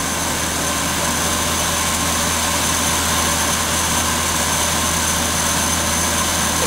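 The spinning propeller of a downwind cart running on a treadmill makes a loud, unbroken whirring drone with a broad rushing hiss, steady from start to finish. No talk is heard.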